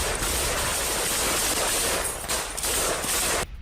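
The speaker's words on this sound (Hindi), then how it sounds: "रूसी ट्रेंच में घुसकर यूक्रेन पर की अंधाधुंध फायरिंग।" Continuous automatic gunfire from a Ukrainian special forces attack on Russian trenches, a dense, loud barrage of overlapping shots that ends abruptly near the close.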